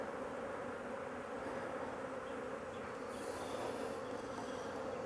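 Honey bees swarm around an open hive during a honey harvest, producing a dense, continuous droning buzz at steady low volume, with no talk and no breaks.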